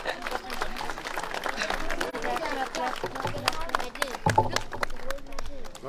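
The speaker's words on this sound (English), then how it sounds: "big round of applause for him." Audience applause at an Independence Day celebration at the Embassy of India in Dublin, a crowd clapping steadily over several seconds with murmured chatter and voices mixed through the indoor gathering.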